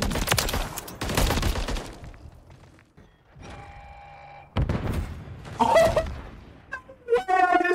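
Gunfire in Call of Duty: Modern Warfare 3 ranked play: loud bursts of rapid shots open the clip, then a quieter gap with game tones and noise, followed by more close, dense firing and sharp effects toward the end.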